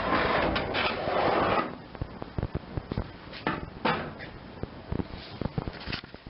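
Wooden board sliding out from a pickup truck cap, first a loud scraping rush, then a series of knocks, bumps and wooden clunks at close range.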